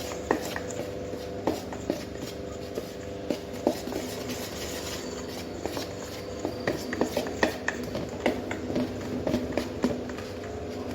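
A spoon scrapes and clinks steadily against a bowl while dry fruit cake mixture is stirred, giving a busy, continuous rhythm of close taps and scrapes at moderate volume.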